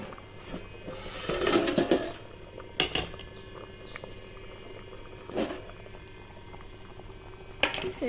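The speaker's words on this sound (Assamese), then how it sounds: "সেইপিনে দালি উতলি আছে" Masoor dal bubbles away in a pot, a quiet steady simmer with soft popping bursts of liquid and a few sharper clatters of the pot or lid.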